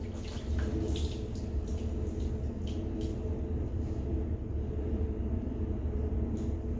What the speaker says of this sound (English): I'm going to dump most of my water again.